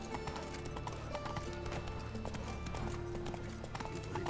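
A horse gallops in The Witcher 3 video game, its hooves clattering in a dense, steady rhythm, loud and close, against busy game ambience with no talk.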